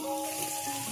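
Beef sizzles as it roasts in a pan for achari gosht, a brief, close and steady frying crackle with no talk over it.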